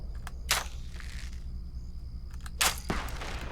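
Bursts of enemy gunfire in a video game, two sharp loud volleys separated by quieter scattered shots and pops over a steady low background hum, with no talking.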